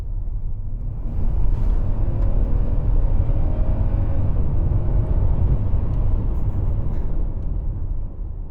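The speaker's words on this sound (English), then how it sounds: "Let's try kicking it down and giving it a quick boost forward." A heavy Toyota Century V12 accelerates hard on kick-down, a steady loud engine roar with road rumble that swells and holds for several seconds before easing slightly at the end.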